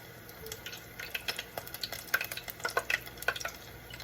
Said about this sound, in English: You can hear it frying away.